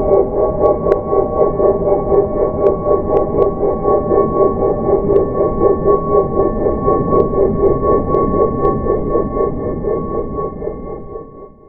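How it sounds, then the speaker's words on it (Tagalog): A sonified rendering of the Eskimo Nebula plays as a steady, dense, droning hum layered with sustained tones and faint pings, holding loud throughout before fading out near the end. "At ganito ang tunog ng Eskimo Nebula."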